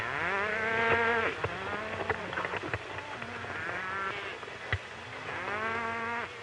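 Cattle being rounded up and driven toward a border in a 1939 western moo repeatedly in loud, long, drawn-out calls that overlap one another, with a steady outdoor background beneath.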